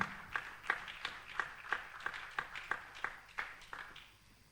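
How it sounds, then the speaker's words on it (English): A small group at a conference claps in a sparse, evenly spaced series of about a dozen distinct hand claps, moderately close and fading slightly toward the end. "Please, a round of applause for him."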